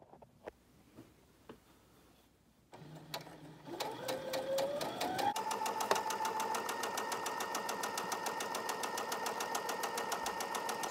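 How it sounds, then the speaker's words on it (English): A sewing machine stitches fabric for large costume wings, starting after a few soft handling clicks and then running at a steady, fast, close mechanical whir with rhythmic needle chatter and no talk. "I sewed along the entire top edge of the pattern that we traced"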